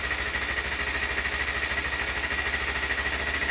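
Kawasaki Ninja motorcycle engine idling with the choke on, a steady loud low rumble with an even pulsing beat throughout and no voices.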